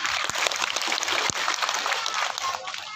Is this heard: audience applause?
yes